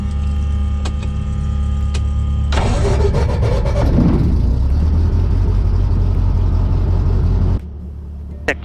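A light aircraft propeller engine cranks and catches, then settles into a loud, steady running drone that continues for several seconds before cutting to a lower hum.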